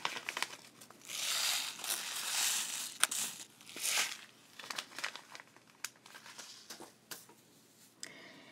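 Small glass seed beads being picked up and shuffled for a beaded bracelet, giving soft crinkly rustles and scattered light clicks in uneven bursts, close and quiet, with no talking.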